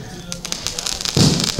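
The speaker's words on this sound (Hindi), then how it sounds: "हम लोगों ने बच्चों के साथ अपने परिवार के साथ अच्छे से पटाखे फोड़े हैं" Diwali firecrackers burst at home in a sharp, crackling spray of pops, fairly near, with a deeper bang toward the end.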